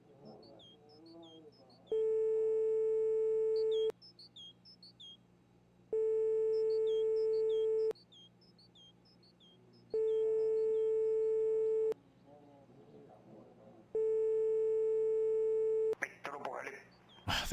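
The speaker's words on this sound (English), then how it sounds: "We got to sit here and listen to Dial Tone Simulator." In a winter survival video game, a telephone line repeats a flat, two-second electronic tone with two-second gaps between, four times, over faint chirping birds, before a burst of noise at the end.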